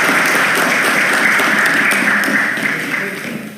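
Dense, loud applause fills a parliamentary Commission III session after the election of the KPK chair, a continuous roar of many hands clapping that gradually fades toward the end.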